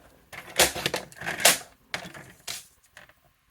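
Designer series paper being trimmed to size on a paper trimmer while making a fun fold card, several close, crisp slicing and sliding sounds in short bursts, with no talking.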